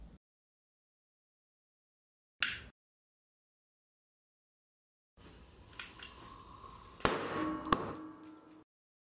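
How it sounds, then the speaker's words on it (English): Silence broken by a single sharp crack, then a few seconds later a burst of crackling, hissing pyrotechnic noise with louder pops from two fireworks exploding inside a spinner, fairly close. "I'm gonna put two fireworks in it and we'll see what happens."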